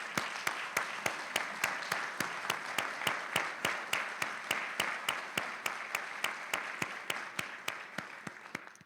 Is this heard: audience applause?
yes